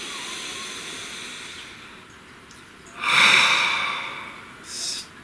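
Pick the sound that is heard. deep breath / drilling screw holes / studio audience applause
deep breath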